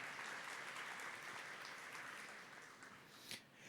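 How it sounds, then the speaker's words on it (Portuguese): A church congregation applauds after a Bible reading, a steady, fairly distant wash of clapping that holds evenly and then thins toward the end. "vamos aplaudir a palavra de Deus"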